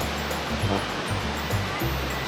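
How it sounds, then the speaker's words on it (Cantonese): Shiraito Falls, a wide, thin-streamed waterfall in snowy winter Karuizawa, Nagano, Japan, gives a continuous broadband rushing roar close by, with faint low rumbles from nearby visitors underneath. "白絲之龍啊，龍即係瀑布。"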